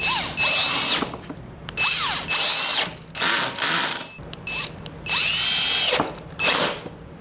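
A power drill drives screws into wood for a decorative end table, several whining bursts of rising motor pitch with short pauses and ratcheting clicks between them, loud and close.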